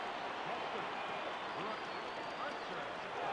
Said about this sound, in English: Yeah, see, they're booing me.